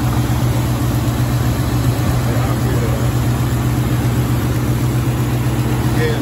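A 350 motor running steadily with a loud, constant low hum and drone that never lets up, close by and unbroken by speech.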